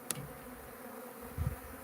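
Honeybees drone quietly and steadily from a kept hive, with a couple of soft bumps and a brief click over the hum.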